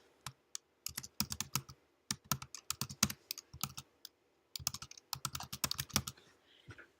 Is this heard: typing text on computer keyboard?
yes